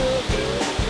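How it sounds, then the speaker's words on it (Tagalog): Large waterfall in Burgos, Ilocos Norte, a steady broadband roar of falling water filling the short moment without a break. "Yun na yung pinakamalaki, pinakamaluwang, o pinakamalaking waterfall na nakita ko."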